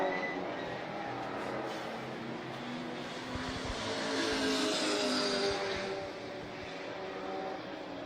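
Race cars lapping a circuit in a one-hour endurance event, including Matt Whitaker's Porsche, produce a steady broadband engine roar that swells and fades slightly as cars pass at middle distance, with no voices over it.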